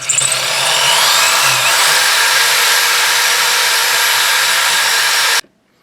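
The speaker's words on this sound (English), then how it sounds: "it's not going in, so now I have to ream it" A power drill drives a reamer through a 3/16-inch hole to fit a CSA VZ-58 side mount onto a Type 81 light machine gun, a loud, steady whine that runs about five seconds and then cuts off abruptly.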